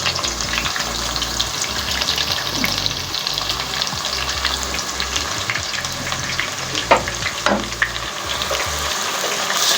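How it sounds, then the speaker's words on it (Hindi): Sliced onions fry in hot oil in a pot, giving a loud, steady, close sizzle with occasional scraping from stirring, and no voices. "अब इसमें चॉप हुई स्लाइस की तरह कटी हुई प्याज डालेंगे।"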